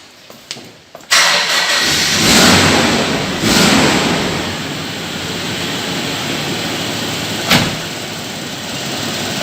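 A car engine turned by a freshly repaired starter motor cranks briefly, catches after about a second and runs with a loud, full roar, with one sharp knock partway through.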